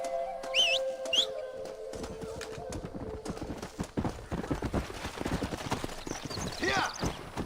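Horse hooves clip-clop at a quick, steady pace in the Red Dead Redemption video game, with a whistle and a brief neigh near the start.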